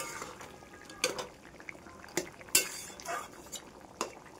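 Green chillies are stirred in a cooking pot, with a utensil scraping and clinking against the metal in several sharp, irregular taps, close and fairly clear, with no talk.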